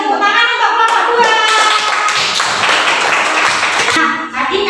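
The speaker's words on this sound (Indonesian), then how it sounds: "Beri tepuk tangan untuk kelompok 2." Classroom applause for a student group after a presentation: a burst of many hands clapping close by, steady and loud for several seconds before tapering off.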